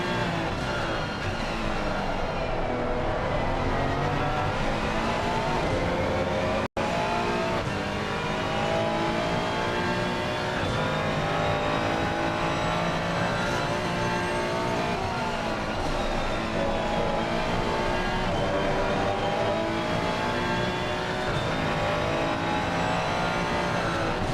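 Ferrari 296 GT3 race car heard from onboard at night at Imola in a racing game, its engine roaring continuously with rising and falling revs through gear changes, loud and close throughout with no talk.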